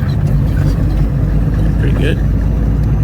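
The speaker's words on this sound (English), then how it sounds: "So he's gonna split those lower gears coming up a hill." A Peterbilt truck engine drones loud and steady while splitting lower gears climbing a hill, a deep continuous rumble inside the cab with a person speaking briefly over it.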